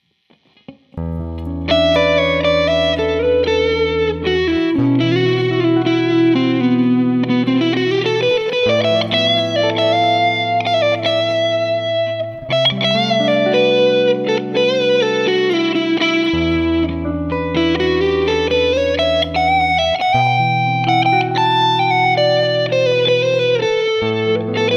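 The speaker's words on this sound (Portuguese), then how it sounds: "Vou ligar a distorção aqui" Electric guitar through a distortion effect playing sustained chords with a melodic line weaving over them, loud and continuous, with reverb and no talking.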